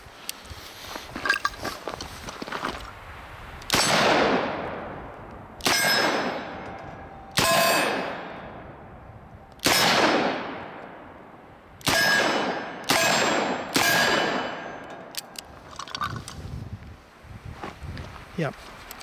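A Smith & Wesson 686+ seven-shot .357 Magnum revolver fires about eight loud, sharp shots at an outdoor range, spaced irregularly over the span, each with a ringing decay and a faint metallic ping.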